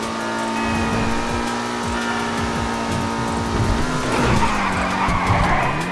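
A car skids with a sustained tire squeal over a steady engine drone while racing in Grand Theft Auto V Online, loud and continuous throughout.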